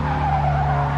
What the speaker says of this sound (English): Just kick the handbrake out